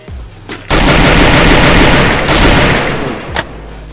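Loud, close gunfire in a video game erupts into a dense continuous barrage lasting several seconds, with a final sharp shot at the end.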